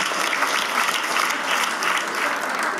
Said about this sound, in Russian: Давайте похлопаем девчонкам.